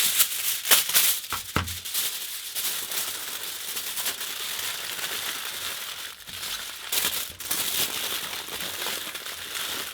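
Aluminium foil crumpled and crushed by hand while shaping an apple sculpture, a continuous dry crinkling close up with sharper crackling bursts throughout, no talking.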